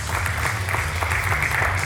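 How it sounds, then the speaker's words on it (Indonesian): Studio audience applauding the panel speakers on an Indonesian television economics programme, a steady, dense wash of clapping that holds at an even level for the whole stretch. "kita berikan tepuk tangan yang meriah sekali lagi"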